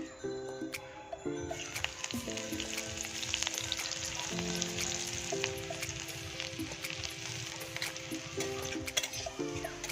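Steady crackling sizzle of chopped garlic frying in hot mustard oil, close and continuous, with occasional clinks and faint background clatter.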